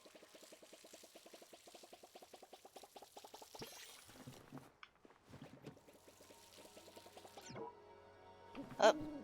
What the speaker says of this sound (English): Oh, there goes a watering can.